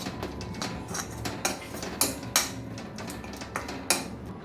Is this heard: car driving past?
no